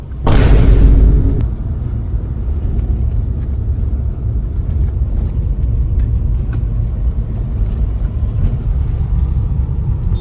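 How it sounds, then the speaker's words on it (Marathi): Road traffic on a busy highway in hot daytime conditions, heard from inside a moving vehicle: a loud low rumble and whoosh opens the first second, then a steady engine and tyre drone continues without talk. "reality of traffic"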